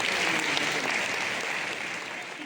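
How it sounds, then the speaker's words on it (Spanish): Audience applause at the closing ceremony and awards of a theatre festival in Jarandilla, a dense, even roar of many hands clapping from a large hall crowd, steady and slowly easing off. "un fuerte aplauso para los que estáis ahí"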